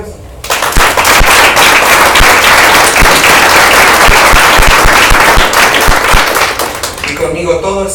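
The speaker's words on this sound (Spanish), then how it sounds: "Un aplauso a Dios." Congregation applauding in a church, a dense sustained wash of clapping that starts abruptly, holds loud and steady for several seconds with sharp individual claps popping through, then thins as a voice returns at the end.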